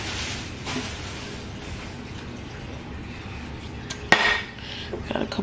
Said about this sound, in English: I mainly just want to get dishes out the way.